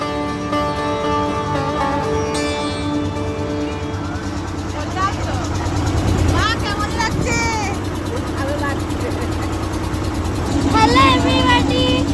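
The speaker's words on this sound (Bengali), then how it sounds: "আমরা এখন নৌকায় উঠে গেছি আর এত আওয়াজ হচ্ছে, কারোর কথা শোনা যাচ্ছে না" A loud boat engine drones steadily during a river crossing in the Sundarbans, with wind rush and people talking over the noise nearby.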